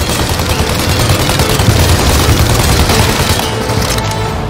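Gunfire aimed at a plane in Mafia Definitive Edition, loud continuous rapid bursts of shots blurring into a steady roar with no breaks and no voices.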